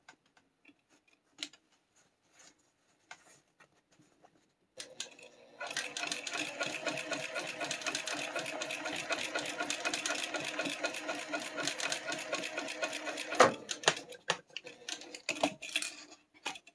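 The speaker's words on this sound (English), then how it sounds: "turn my stitch length back up to 6 and let's machine baste the bottom." Sewing machine basting the bottom seam of a garment with a long stitch length, a steady near whirring run of about eight seconds after a few scattered handling taps, ending in a louder clunk and some clicks.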